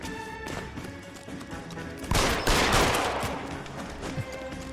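Gunshots in L.A. Noire: a burst of rapid gunfire crackles loudly, followed by a heavier volley of shots and thuds, mid-distance against continuous game background sound.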